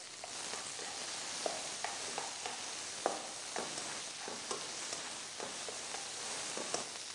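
Onion sizzles and fries in a pan with bay leaf, ginger and garlic for a lamb curry, a steady bright hiss broken by soft scrapes and taps of stirring.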